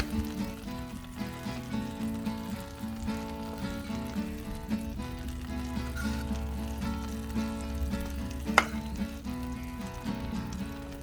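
Beer pancake batter cooks on a Blackstone griddle with a soft, continuous sizzle at moderate volume. A faint background hum sits beneath the frying.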